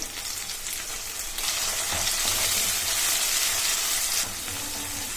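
Steady, loud sizzling of tomato puree frying in a hot pan, swelling in intensity midway and easing slightly near the end, with no voices.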